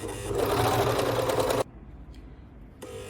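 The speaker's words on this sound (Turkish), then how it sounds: "Ve makineyi çalıştırıyoruz." A tugi MK1881 overlock sewing machine runs at speed with a steady, dense mechanical whir, then cuts off abruptly, leaving near silence with a faint tick before it briefly starts again.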